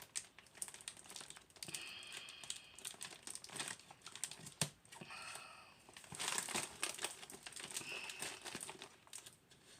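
Plastic packaging on a Temu parcel is cut and torn open up close, with continuous crinkling and crackling, scattered sharp snips and rustling bursts over about ten seconds.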